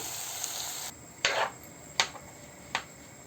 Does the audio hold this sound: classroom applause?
no